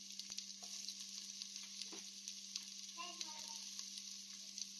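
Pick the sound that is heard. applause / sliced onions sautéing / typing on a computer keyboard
sliced onions sautéing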